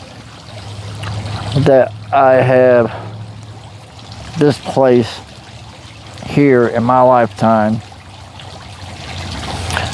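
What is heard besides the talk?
cascading water of a fountain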